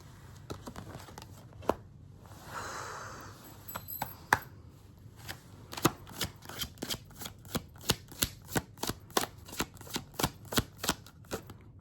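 Tarot cards shuffled close up, starting with soft sliding and rustling, then a steady, evenly paced series of crisp card snaps and taps growing louder, with no voice over them.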